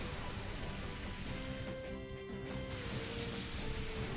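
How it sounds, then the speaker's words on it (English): Steady rain pours in the Pokemon XD: Gale of Darkness battle, a continuous hiss of falling water layered under game music tones, loud and unbroken throughout. "The rain effect sounds so cozy, doesn't it?"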